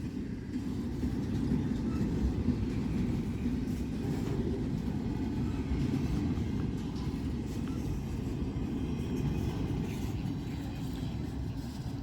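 A Norfolk Southern freight train rolls past in a steady low rumble with rattling wheels, moderately distant and constant throughout, with no voices, after a brake problem was fixed, in Ohio.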